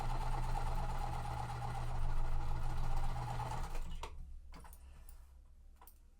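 A sewing machine runs steadily, stitching the long sides of quilt fabric pieces. The fast, even whir fills the first few seconds, then stops, leaving a few scattered clicks and taps.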